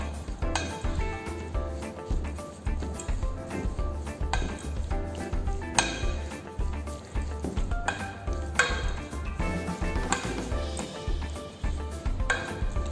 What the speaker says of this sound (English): Now gently mix it very well with a spoon, with a wooden spoon or a tongs.